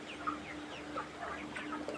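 Several 30-day-old poultry farm chickens cluck softly in short, scattered calls over a steady low hum of fans, with no talking.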